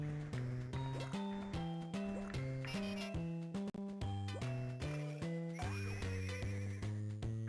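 A seahorse whinnies in the Game Boy Advance game SpongeBob Battle for Bikini Bottom, faint and set against looping chiptune music with a steady bouncing rhythm.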